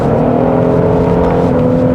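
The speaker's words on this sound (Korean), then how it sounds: "이렇게 그 엔진 소리 자체가 좀 되게 우렁차죠" A Genesis GV70 3.5-litre turbo engine pulls hard from about 2000 rpm, a loud, deep, continuous drone with a steady bass tone throughout.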